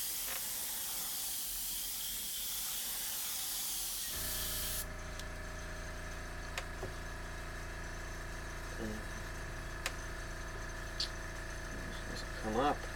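An airbrush sprays paint onto a skull model, a steady hiss that drops into a compressor hum partway through with small clicks over it, and it carries on at an even level throughout.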